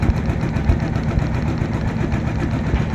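Engine of a passenger launch racing at speed on a river while overtaking another launch, a steady low mechanical drone with even throbbing vibration, close and continuous with no voices.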